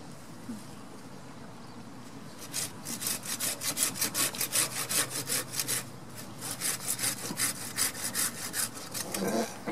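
A hand saw cuts through a tree branch outdoors, its strokes falling into a fast, even back-and-forth rasp that starts after a few quiet seconds, briefly pauses, then resumes nearby.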